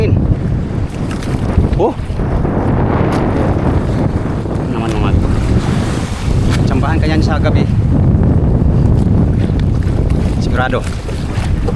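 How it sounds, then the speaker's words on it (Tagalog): Strong wind and heavy waves buffet a small boat out on the Pacific, a continuous rough roar of gusts and water lasting throughout while someone talks over it. "Malakas ang hangin."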